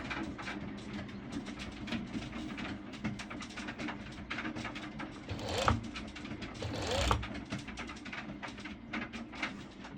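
A serger stitches over a layer of mesh fabric with a fast, even run of needle strokes, quiet and close, with a couple of slightly louder swells partway through.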